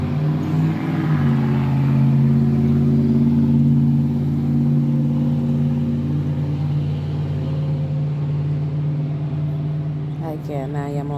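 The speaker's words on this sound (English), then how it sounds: "Excuse me for the background of the traffic, but I'm on my patio." Road traffic rumbling past a home patio in the morning, a steady engine drone with a passing car swelling and fading, a voice talking over it near the end.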